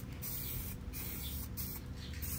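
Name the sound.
spray paint being applied to a bike fork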